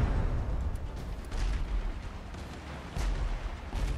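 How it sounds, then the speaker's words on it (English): Cannon fire in the naval video game Abandon Ship, heavy booming shots with rumbling low blasts and crackling debris, several bursts rolling over one another in a continuous, loud barrage. "One of the cannons needs to shoot."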